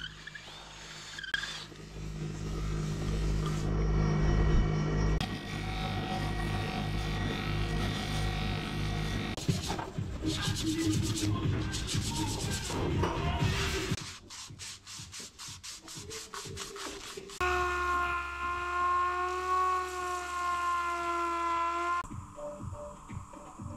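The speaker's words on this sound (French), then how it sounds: "Après 3 jours de ponçage, on commence à avoir quelque chose de lisse." Sanding a handmade wooden fishing lure in Guadeloupe, a loud continuous abrasive rubbing that shifts in pitch and texture as the strokes change, with rapid back-and-forth scrubbing passages and a brief whining tone near the end.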